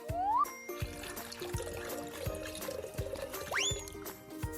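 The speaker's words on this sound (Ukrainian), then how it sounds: "Зараз ми додамо воду у цемент і він не затвердне." Cartoon water pours into cement with a light, trickling liquid sound and watery tinkles, joined by rising whistle-like sound effects and soft rhythmic thumps at moderate loudness.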